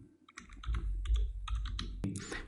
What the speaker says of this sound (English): hit F2 on the keyboard to rename and call it a rotation